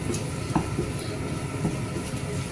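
Chicken breast frying in a pan, a steady broadband sizzle running throughout with a few soft scraping or stirring clicks, heard close and alone with no talk.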